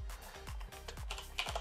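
Typing on a computer keyboard, a quick run of close, crisp key clicks and thumps in an uneven rhythm.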